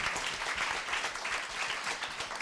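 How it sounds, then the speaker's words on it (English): An audience at a creative industries showcase event with ITV Academy applauds, producing a brief burst of dense, even clapping at a moderate distance. "So just massive round of applause again for these guys."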